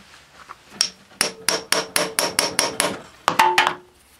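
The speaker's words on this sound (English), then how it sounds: "I'm going to give it one rap-tap-tap." A hammer raps a part on a 1971 Honda CT70 motorcycle: a few light taps, then a steady run of about nine sharp metallic strikes, and a final quick cluster of blows, close and clear.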